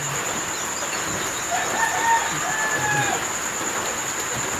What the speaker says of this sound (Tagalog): Ayan pinapakain ko mga kamanok.